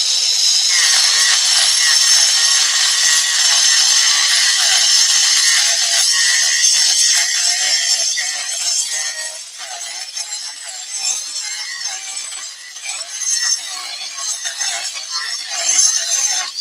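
A grinder rubs against scrap wood being shaped into a wall hanging, giving a loud, steady abrasive hiss that stays continuous throughout and eases slightly in the second half.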